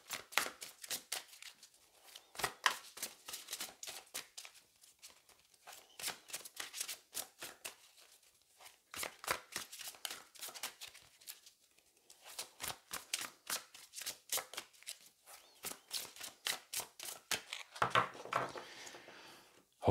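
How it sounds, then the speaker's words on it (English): Tarot cards are shuffled by hand in quiet bursts of crisp riffling and slapping, pausing briefly between rounds, soft and close with no talking. "I haven't shuffled the cards yet"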